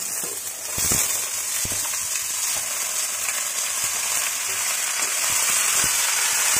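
Finely chopped potatoes fry in a pan of egg mixture, giving a loud, steady sizzle with scattered pops and occasional stirring scrapes, close up and without speech.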